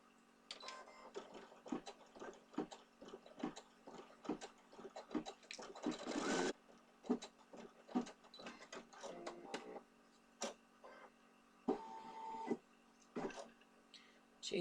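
An embroidery machine stitches a placement outline, a quick mechanical chatter of needle strikes and clicks in irregular bursts, fairly close and quiet, with brief louder whirring moments.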